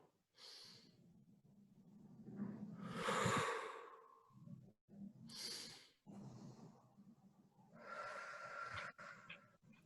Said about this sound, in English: Up, inhale, down, exhale.